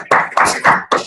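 Meeting participants applaud remotely over open microphones, four sharp, evenly spaced clapping bursts in quick succession, close and fairly loud.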